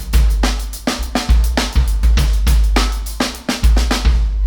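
Drum kit playing a groove, with kick and snare hits in a steady syncopated pattern and bright cymbal or hi-hat wash on top, up close and loud with no talking.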